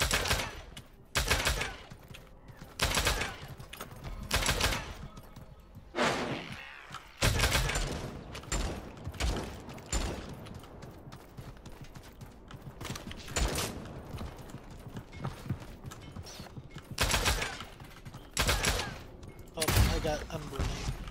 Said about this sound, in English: got him with the poison pistol